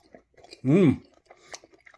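Someone takes a taste of a fresh, juicy shrimp and bacon dish: a short burst of close, moist chewing with a brief hummed murmur, surrounded by quiet room sound.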